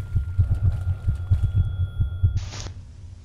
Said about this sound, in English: I'm not listening to these heartbeats.